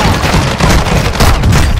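Dense, loud barrage of gunfire in a Warzone 2 Resurgence mode match, shots overlapping into a continuous close roar with no talking.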